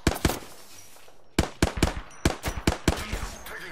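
Gunfire in the Apex Legends battle royale, a burst of sharp shots followed by a rapid run of close, loud cracks in uneven bursts.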